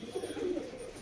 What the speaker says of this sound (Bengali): এই হচ্ছে আমার আবলুক পায়রা